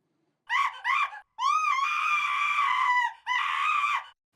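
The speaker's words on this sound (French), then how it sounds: "D'entendre quelqu'un crier tout d'un coup." A person suddenly screams in a played recording: two short loud shrieks, a gap, a long sustained scream, then a final burst, close and piercing against silence.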